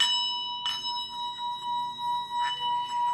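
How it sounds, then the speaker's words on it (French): Metal bells ring with steady, sustained tones and a few soft strikes, fairly quiet and clear with no talking. "Et puis, on peut prendre aussi des cloches comme ceux-ci."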